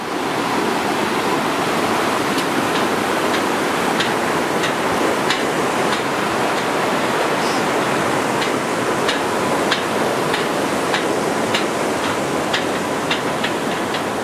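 Jackson's Creek runs beneath a suspension bridge on a Tasmanian bush hike, a steady close rush of flowing water that fills the whole stretch, with faint birdlike ticks dotted on top.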